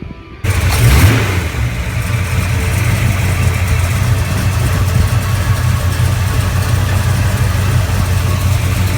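A big block Chevrolet V8 in a 1969-70 Chevelle cranks briefly and fires up, settling into a loud, steady, rumbling idle close by with no talk.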